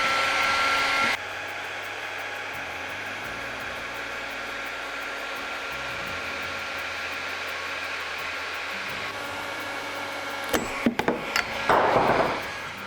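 Heat gun blowing hot air onto a metal plate to soften epoxy during a scale boat build, a steady loud whoosh throughout, with a brief change at the start and a few knocks and rattles near the end.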